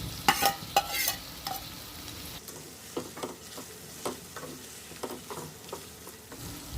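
Raw prawns and okra frying together in a pan, a close, continuous sizzle broken by several crisp stirring scrapes, with no talking.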